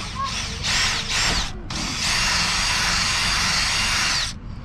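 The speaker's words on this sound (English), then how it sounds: "I'm riveting your pile of junk back together." Power riveting on vehicle body panels of a cheap beater car being prepped for a camp-off, heard as a few short whirring bursts followed by one longer sustained run, loud and close.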